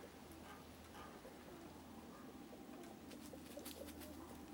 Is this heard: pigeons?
yes